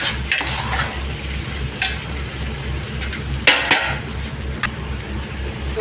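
Ingredients sizzling in a pan while being stirred, a steady frying hiss with occasional sharp scrapes and clinks of the utensil against the pan, close and without talk.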